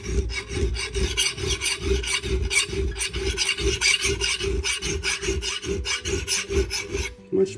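A steel file rasps back and forth across an axe blade in a steady run of short, even strokes, close and loud throughout, with no voices.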